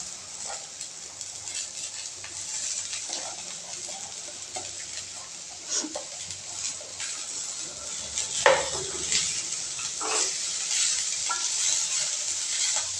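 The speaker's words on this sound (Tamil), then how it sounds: "இது கூட கட் பண்ணி வச்சுருக்கிற கீரையை சேர்க்குறோம்" Chopped spinach tossed into onions frying with dried red chillies in a pan, a steady sizzle with scraping stirs and occasional clinks of the utensil against the pan, no voices.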